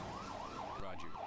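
An ambulance siren wails in the Emergency 4 video game, a rising and falling electronic tone repeating several times at moderate level under a steady background rumble.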